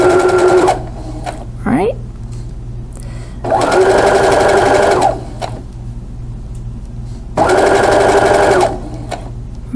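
A sewing machine stitches a quarter-inch seam on a Double Wedding Ring quilt, whirring loudly and close in three steady runs with quieter pauses between them, while a voice speaks briefly.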